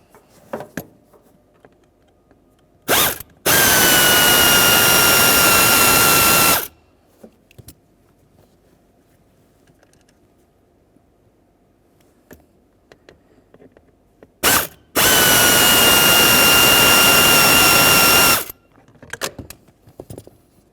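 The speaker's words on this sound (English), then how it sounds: "There's two Phillips head screws. Go ahead and remove those and remove the actuator." A power driver whirs twice in long bursts, each lasting about three to four seconds, as Phillips head screws are removed from a Honda Accord HVAC blend door actuator, with small clicks and handling noises between.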